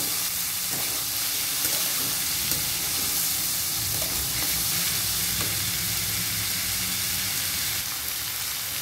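Bottle gourd peel and potato fry in a pan with a steady, loud sizzle, while a spatula stirs through them with scattered soft scrapes and knocks.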